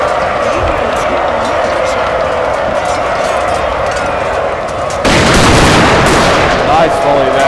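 Musket volleys crackle across an American Civil War battlefield in a Total War game, a dense steady rumble of distant gunfire that swells into a louder, closer burst near the end.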